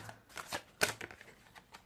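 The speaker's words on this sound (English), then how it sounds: "Let's do some shuffling, some real fast ones." Tarot cards shuffled quickly by hand, a soft run of riffling and slapping with a sharp snap near the middle, close and fairly quiet, with no talking.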